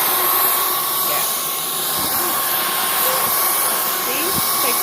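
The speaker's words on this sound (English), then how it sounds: "I like the vacuum." Proscenic cordless vacuum cleaner running on mode 3, a steady broadband motor whir that holds constant throughout, close and loud, with faint indoor sounds underneath.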